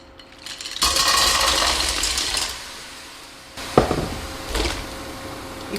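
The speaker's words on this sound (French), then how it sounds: "Je vais verser les moules." Mussels pour into a hot stockpot on an induction hob in two bursts of rattling, clattering shells, the first long and sustained, the second shorter with a sharp clack, close and alone.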